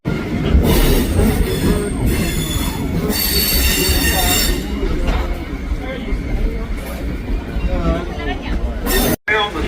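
A Blue Ridge Scenic Railway train rumbles steadily along the rails descending a steep grade between Blue Ridge and McCaysville, wheels squealing and screeching loudly against the track, with a murmur of passengers chattering underneath.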